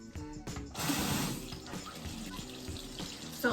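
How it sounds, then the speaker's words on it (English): Water runs from a sink tap over hands in a bathroom during a skincare routine, a steady close splashing rush with some handling clatter and no talk. "just gonna get a little bit of water on my hands"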